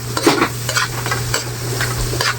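A spatula stirs and scrapes through food sautéing in a pan for bagoong, with rhythmic scraping strokes over a steady sizzle and a constant low hum, close and fairly loud.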